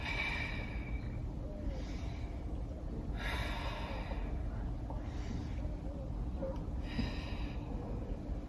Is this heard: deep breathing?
yes